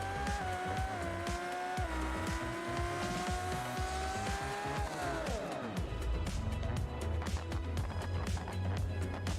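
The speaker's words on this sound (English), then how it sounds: "Finally, to top it all off, we're going flat out on the drag strip." A Lamborghini Huracan in BeamNG Drive, a video game, runs flat out on a drag strip: the engine whine climbs steadily through the gears, then gives way to a rough, loud roar and tire noise.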